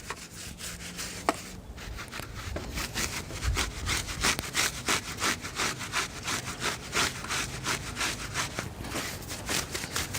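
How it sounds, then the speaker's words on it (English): A brush scrubs the spokes and rims of a Yamaha YZ250 motocross bike, giving steady, rapid back-and-forth rasping strokes up close, continuous throughout with no talk. "Clean your spokes, clean your rim, scrub everything underneath."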